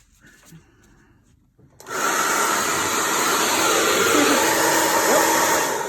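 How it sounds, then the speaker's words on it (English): A hair dryer on its cool setting switches on after a quiet moment and blows steadily with a loud, even, breathy whoosh that continues to the end. "I'm going to get my hair dryer and keep it on cool"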